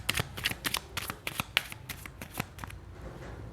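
Tarot cards shuffled and drawn as clarifiers, a run of crisp riffling flutters and soft card slaps in an irregular rhythm, close and moderately quiet, with no talk.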